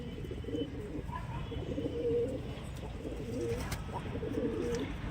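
A newly arrived pair of pigeons coo steadily in low, rounded, repeating phrases, fairly close and continuous over a faint background hum, with no one talking.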